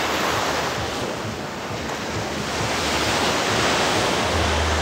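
Steady, loud ocean surf with a continuous broadband wash and some wind rumble, no distinct breaks, with no talking.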